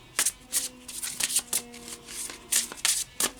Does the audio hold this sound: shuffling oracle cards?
yes